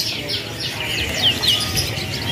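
Dark-colored loper canaries at a kiosk in Pramuka bird market chirp in quick, high tweets over a busy background hum of the market.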